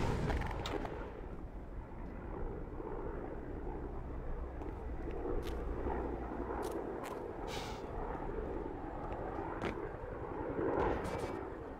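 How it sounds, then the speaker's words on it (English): A distant helicopter in the video game Black Mesa drones as a steady, low rumbling wash that holds for the whole stretch, with a few faint sharp clicks and thuds scattered over it and no voices. "I hear a helicopter in the distance."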